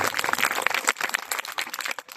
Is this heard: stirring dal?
no